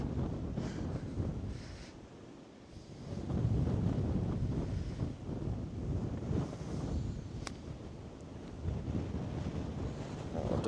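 Strong wind buffets the microphone on an open golf course, rumbling loud and gusty throughout, rising and falling without letup.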